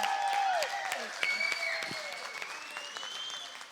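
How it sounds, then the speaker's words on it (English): An audience applauds steadily throughout at an adult talent show, a dense wash of clapping with whistles and cheers rising over it. "Give them a round of applause."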